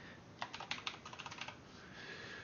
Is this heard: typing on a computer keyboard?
yes